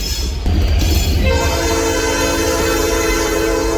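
A train rolls past close by on an unprotected track at Chapel Hill, its loud steady rumble and wheel clatter filling the whole stretch, with a sustained horn-like tone rising in the second half.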